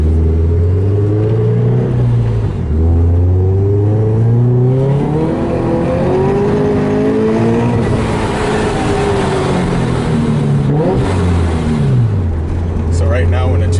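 A Kraftwerks C30 supercharged Subaru FR-S with Skunk2 headers and a Perrin 3-inch exhaust accelerating hard from inside the car, its engine note rising in pitch through the gears with a loud, continuous roar and brief dips at each shift.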